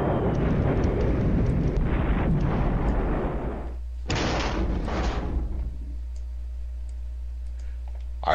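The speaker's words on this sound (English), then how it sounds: "now the enemy calls in artillery" Artillery fire in a Brüder Gegen Brüder wargame campaign: heavy, rumbling blasts and bursts of crackling impacts in two loud waves, separated by a brief lull, then fading to a low hum.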